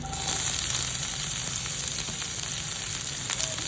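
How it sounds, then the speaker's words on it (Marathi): Onion sautéing in hot oil in a kadhai after garlic for a Maharashtrian kurdali bhaji, a steady, loud, continuous sizzle with faint crackle throughout and no talking. "आता आपण कांदा टाकूया"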